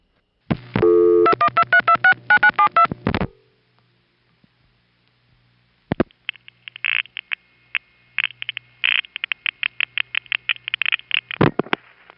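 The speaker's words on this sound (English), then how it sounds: "We're dialing 326-9972, which is the supervision test" A telephone number dialed through a 1977 panel switching exchange: a rapid train of pulsed tones, then a pause, then long runs of rhythmic clicks and beeps of the panel pulsing, loud and close without talk.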